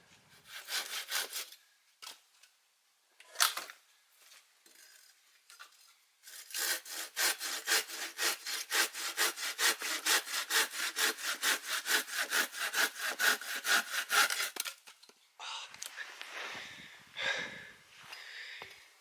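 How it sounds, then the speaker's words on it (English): Firewood is hand-sawn at a campsite by Five Mile Lake. A few short strokes come first, then a long, close run of steady back-and-forth rasping strokes, followed by scattered quieter scraping. "I just sawed up a little firewood for the boys for the next time they're out"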